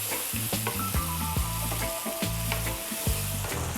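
Tomatoes and red wine bubble and sizzle in a pan over medium heat, with continuous frying crackle and repeated scraping stirs at a steady pace, close and loud.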